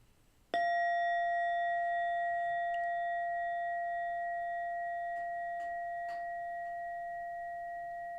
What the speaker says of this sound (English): I invite you to listen to that chime and study the sound.